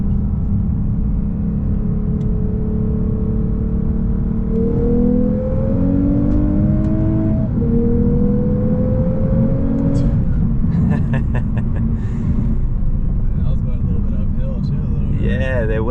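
A 2023 Lexus RC 350 F Sport accelerates from a 40 mph roll, its engine note climbing steadily under constant road and cabin rumble, with a brief shift near the middle.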